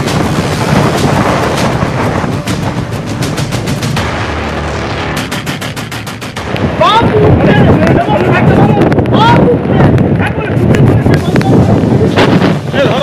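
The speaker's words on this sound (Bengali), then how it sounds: "এতই হাওয়ার দাপট সঙ্গে ঝোড়ো হাওয়া, প্রবল বৃষ্টি" Strong stormy wind buffets the microphone with heavy rumbling gusts amid heavy rain at Digha, while a roaring sea churns underneath and a voice shouts over the noise.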